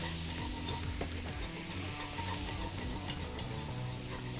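A whisk works pasta water into a sizzling sauce in a pan, a continuous quiet stirring and bubbling fry with light scraping, close and steady without any voices.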